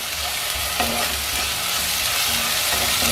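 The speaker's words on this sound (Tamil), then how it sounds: "நல்லா பச்சை வாசனை போகிற வரைக்கும் வதக்கணுங்க." Masala for a butter beans gravy sautés in a pan with a loud, constant sizzle, broken now and then by close scraping and stirring sounds.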